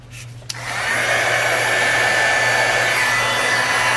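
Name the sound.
heat embossing tool blowing hot air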